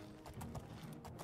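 Horse hooves clip-clopping in the video game The Elder Scrolls IV: Oblivion, a short, faint series of quick irregular hoofbeats over a low background.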